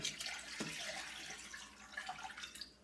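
Water splashes and trickles steadily into a pot close by, a soft continuous pour with small bubbling spatters.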